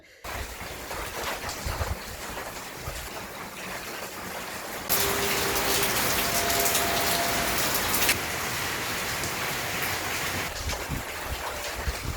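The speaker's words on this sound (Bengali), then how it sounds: "সকাল থেকে জলপাইগুড়ি জেলা জুড়ে বিক্ষিপ্তভাবে বৃষ্টিপাত, মেঘলা আকাশ, অন্ধকার নেমে এসেছে গোটা এলাকায়।" Rain falls across a cloudy, darkened district of Jalpaiguri during a spell of continuous monsoon rain, giving a steady, broad hiss that swells louder for a few seconds midway and then settles again.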